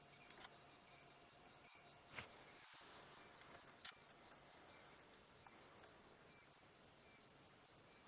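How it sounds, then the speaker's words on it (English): A faint, continuous high-pitched cicada buzz on an African safari drive at dusk, droning steadily with a few soft clicks. "The cicadas in the background as well."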